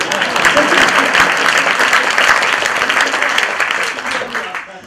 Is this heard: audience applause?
yes